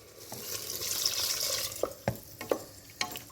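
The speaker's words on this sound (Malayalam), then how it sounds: "പിന്നെ കുറച്ച് വെള്ളം ചേർത്ത് കൊടുക്കുക." Water poured into a pan of chili curry, a brief hiss of liquid hitting the hot pan followed by a few sharp clinks and scrapes from stirring, close by and fairly quiet with no talking.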